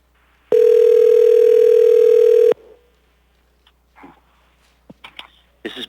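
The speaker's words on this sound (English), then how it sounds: "let's go ahead and call Mr. Bruce Fansworth." A loud, steady telephone dial tone sounds for about two seconds while a caller is phoned for public testimony at an Anchorage Assembly meeting, followed by quiet line clicks and faint noises.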